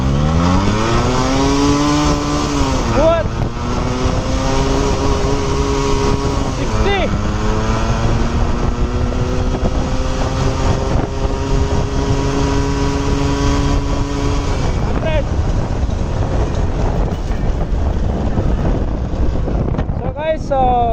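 A Yamaha RX 135 motorcycle is ridden at top speed, its two-stroke engine loud and close, revving up through the gears with rising pitch sweeps and brief drops at each shift, over steady wind rush.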